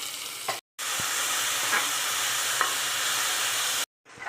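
Onions and green chillies fry in hot oil in a cooker for a drumstick and tomato curry, giving a steady, loud sizzling hiss that breaks off twice with abrupt cuts.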